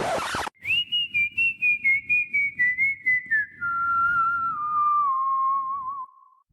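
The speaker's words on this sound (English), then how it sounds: "One thing I have to mention is the whistling." A sharp opening hit, then a clear whistled melody gliding downward over soft rhythmic backing, the tune sustained and bright to the end.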